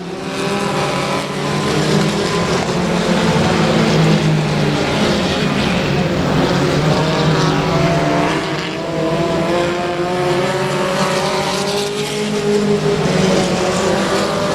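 4-cylinder race cars lapping at night at Rose Bowl Speedway, engines roaring loud and continuous as the pack circles the track, with pitch rising and falling through the laps.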